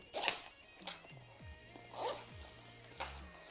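A zipper is pulled open on a first aid kit bag in a few quick, bright rasping runs, close up and fairly loud, with quiet handling noise between the pulls.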